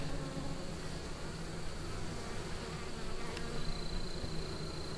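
Honey bees buzzing in an open horizontal hive during an inspection, a dense continuous drone close to the ear with no talking.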